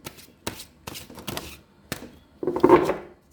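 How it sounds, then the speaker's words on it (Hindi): Tarot cards are shuffled in quick, close riffling bursts, then a longer, louder final shuffle, with no talking. "One more shuffle."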